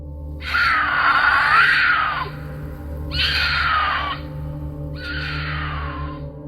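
A mountain lion screaming, three loud drawn-out wailing cries that sound almost like a woman's scream, each lasting one to two seconds with short gaps between, close and alone over a low steady hum.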